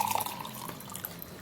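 Warm water pours softly into a container to mix an apple cider vinegar drink, a faint, steady liquid trickle with gentle splashing heard close up.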